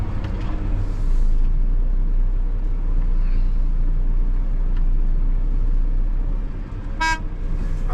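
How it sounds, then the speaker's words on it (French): Garbage truck rumbling in a Marseille street near the Old Port, a steady heavy engine drone throughout with a short sharp horn toot near the end; faint traffic around. "Voilà un camion poubelle, les éboueurs comme on dit."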